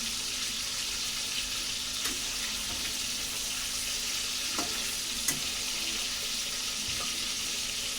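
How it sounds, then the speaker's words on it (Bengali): Pieces of chicken fry in plenty of hot oil, giving a constant, fairly quiet crackling sizzle with occasional sharp pops and light clinks, heard up close for the whole stretch. "সব চিকেন একেবারে মানে ফাঁকা তেলে ভেজে তুলে নিচ্ছি"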